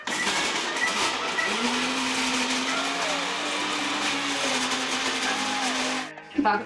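A kitchen mixer grinder whirs steadily for about six seconds as it blends tomatoes, a loud even motor hum with a slight pitch rise, then cuts off abruptly.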